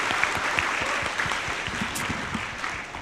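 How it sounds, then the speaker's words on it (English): Audience applause for a guest speaker at an educational leadership lecture, steady clapping from a group that holds at an even level for the whole three seconds. "send big applause to Mr."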